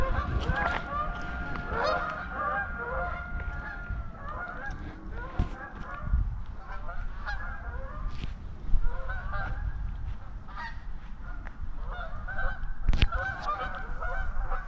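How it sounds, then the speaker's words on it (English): A flock of geese honks continuously on a frosty winter day, many overlapping calls forming a steady, busy chorus at moderate distance with no talking. "The geese are flocking."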